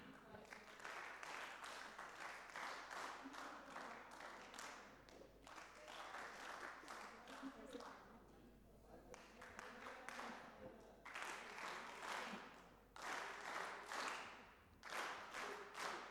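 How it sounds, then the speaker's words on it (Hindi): An audience at a leadership institute lecture claps in several separate bursts of rapid applause with short pauses between them, fairly faint and distant in a hall. "3 दफा ताली बजाएंगे वक्फे वक्त."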